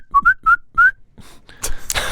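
A person whistles a short tune of four quick chirpy notes, clear and close, followed by brief rustling and noise.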